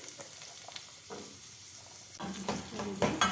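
Chopped onion, curry leaves and carrot fry in oil for a carrot curry, with quiet sizzling and stirring scrapes that swell into a louder, busier crackle partway through.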